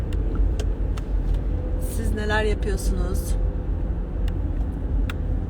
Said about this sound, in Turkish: Arabadayım ve trafik var.